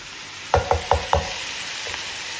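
Beef frying in a pot for a South African beef, cabbage and sweet potato dish, with four quick scraping stirs in a row, then a softer one under a low sizzle.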